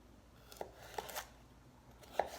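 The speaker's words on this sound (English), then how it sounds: "I have carrot, so I'm just going to cut the carrot in half." A knife cuts through a carrot, a few separate crisp chops at uneven intervals, fairly quiet and close, with no voices.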